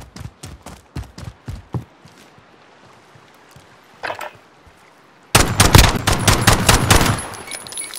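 Rifle fire in Call of Duty: Modern Warfare, with a string of sharp single shots at a steady pace, a lone shot after a pause, and then a loud rapid automatic burst.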